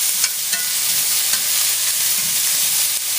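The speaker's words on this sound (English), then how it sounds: "stir that around until your onions get soft and translucent" Onions sizzle steadily in a hot pan, a bright continuous frying hiss with soft scraping stirs now and then, close and loud with no talk.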